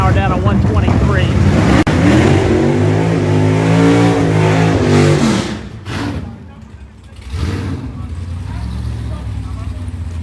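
NMCA drag racing cars roar down the strip at Summit Motorsports Park, the engine howling and climbing loudly up through the revs before cutting off. A second, quieter pass follows while a track announcer talks over it.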